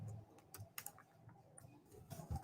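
Someone types an app description on a computer keyboard, soft scattered key clicks at close range, irregular and fairly faint against quiet room tone.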